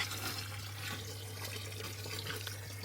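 Water runs at full flow from a mixer tap into a bucket, a steady, rushing splash close by, accompanied by a low constant hum underneath.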